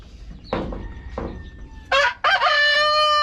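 A rooster crows loudly and close, with hen clucks and squawks before it in a backyard pen.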